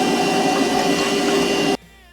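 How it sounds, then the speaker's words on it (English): A vacuum cleaner runs steadily and loudly, sucking debris out of the pull starter housing of a Toro lawn mower, then cuts off abruptly near the end, leaving a quiet background. "I'm gonna vacuum out the gunk."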